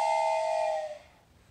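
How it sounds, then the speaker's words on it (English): A single short toy train whistle blast with a bright, steady tone that fades out after about a second. "Did you like hearing the train whistle?"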